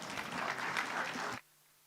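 Brief burst of audience applause at an Islamic economics and finance conference, steady for just over a second and then cutting off abruptly into near silence.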